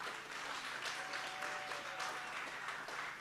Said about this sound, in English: another round of applause for our MEC.